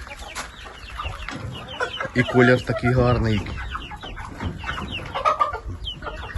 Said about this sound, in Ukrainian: Так, дивіться, які в мене гарні, гарні качки.